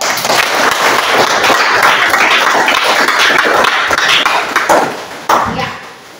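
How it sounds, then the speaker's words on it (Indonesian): Classroom applause from students in a mathematics lesson, a dense burst of many hands clapping loudly and close, tapering off at the end. "kita memberikan tepuk tangan"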